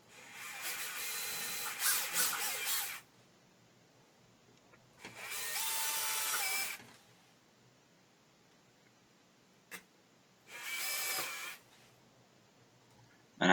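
A power drill whirs in three separate bursts of a few seconds each, boring into wood, with quiet pauses between them.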